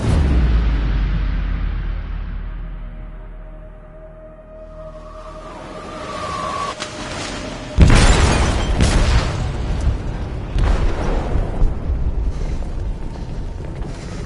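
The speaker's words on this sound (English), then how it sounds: "They detonated an explosive in the hold." An explosion detonates in a ship's hold in the game Detroit, a sudden heavy boom breaking out of a quiet low rumble, then a long rolling, crackling roar with debris.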